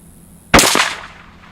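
A single loud .243 Winchester rifle shot fired at a range, a sharp close crack with a quick echo just after and a short fading tail into quiet.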